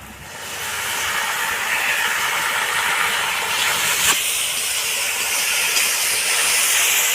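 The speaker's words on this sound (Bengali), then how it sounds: "পেঁয়াজটা অনেকটাই লাল করে ভেজে নিয়েছি এবার আমি আদা আর রসুন বাটাটাকে দিয়ে দেবো" Ginger-garlic paste hits hot oil with deeply browned onions in a pan, giving a steady, loud hiss and sizzle that fills the whole stretch with no voices.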